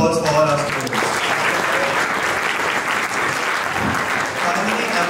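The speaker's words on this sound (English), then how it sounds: "Please give a big round of applause for all our students." Loud, sustained applause fills a school auditorium for the students, dense clapping from a large audience with some voices and cheers mixed in at the start.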